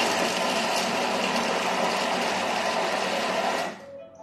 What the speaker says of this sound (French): on va mixer 5 secondes vitesse 5